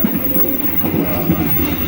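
A Matarmaja passenger train rumbles along, heard from inside its onboard toilet: a loud, steady low roar with rhythmic rail clatter and faint rattling, with no voices.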